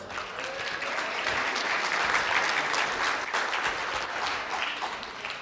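Audience applause at the close of a college keynote, a steady, even roar of many hands clapping together for several seconds at moderate distance, with no voices on top.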